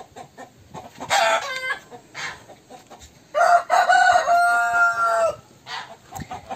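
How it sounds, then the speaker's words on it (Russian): A Brahma hen clucks and squawks in loud, drawn-out calls, with quieter rustling and farmyard noise between them; no talking. "Хотела показать вам курочку Брама."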